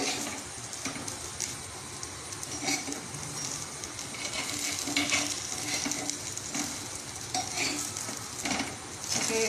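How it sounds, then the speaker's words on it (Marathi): Poddale cutlets fry in oil in a pan, giving a steady, close sizzle and crackle with occasional stirring or scraping, and no talk over it. "आनी ते भाजता थोडे तेल अशें मध्यम तशें घालयत"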